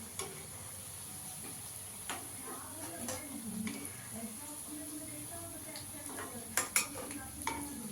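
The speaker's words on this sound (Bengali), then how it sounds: "এবার বাকিগুলো ভেজে নেব।" Lentil dhoka cakes fry in a pan with a soft, continuous sizzle, punctuated by occasional clicks and scrapes of a utensil against the pan, fairly faint overall with a few sharper taps toward the end.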